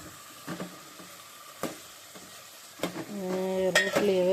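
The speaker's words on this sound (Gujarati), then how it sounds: "આપણી ખીચડી ચડી રહી અને હવે શાક વઘારીએ છીએ બટેકાનું" A spoon stirs potato curry being tempered in a pan, with a few sharp metal clinks early on, then louder scraping and a building sizzle toward the end.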